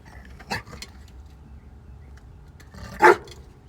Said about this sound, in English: there's a stray dog that just came on my property